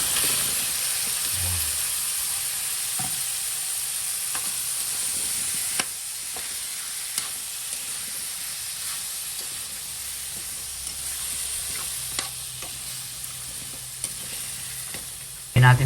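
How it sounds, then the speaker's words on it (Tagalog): Squash pieces sautéing in oil with other ingredients, a continuous bright sizzle and hiss with occasional stirring clinks over roughly sixteen seconds, no one talking. "mantika na yung ating sahog at saka ilalagay na natin yung kalabasa"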